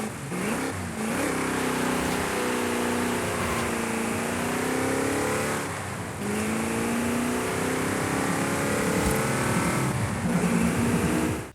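A Plymouth Barracuda with a 6.29 litre engine in Forza Horizon 5 revs repeatedly, its loud rising and falling engine tone sweeping up and down for several seconds with no voices.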